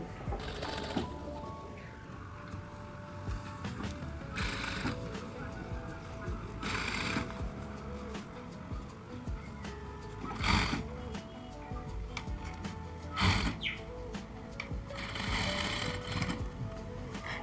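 Sewing machine stitching a katori blouse with a double seam, running in bursts of needle chatter that start and stop, close and steady, while a person talks over it between runs.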